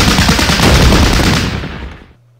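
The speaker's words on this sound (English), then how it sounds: "And we do some more suppressive fire, as somewhere here somebody was retreating." Sustained burst of suppressive gunfire in the tank war strategy game Battle Academy, loud rapid shots rolling together before cutting off abruptly, with no talk.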